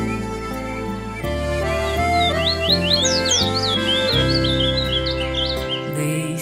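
Birds chirping around a mountain cabin, quick rising tweets layered over a steady, loud musical backdrop with sustained tones throughout.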